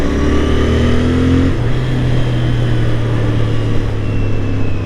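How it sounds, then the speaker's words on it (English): Steady low exhaust note from a 2024 Royal Enfield Interceptor 650 parallel-twin motorcycle with its stock exhaust, a mild, even tone that shifts pitch slightly partway through, loud and close with no talk. "the stock exhaust actually is not off. It's not loud by any means, but it's got a good tone"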